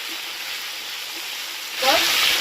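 Chopped tomatoes go into hot tempered oil, and a faint background hiss jumps to a louder, bubbling sizzle near the end, close up, with a voice talking over the first part.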